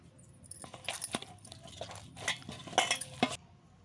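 Naan dough being mixed with a spoon of oil in a bowl, a run of soft sticky squelches and scrapes with sharper clinks against the bowl, close and quiet, ending abruptly.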